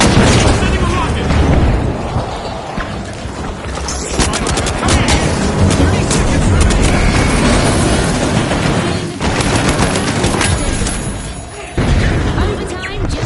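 A rocket explosion in the shooter The Finals booms out amid dense, chaotic gunfire and repeated blasts, with loud continuous combat noise throughout a live match.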